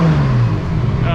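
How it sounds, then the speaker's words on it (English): Toyota Supra drift car engine revving with a steady low engine drone, loud and close, with speech over it. "Did with a bit of a rev."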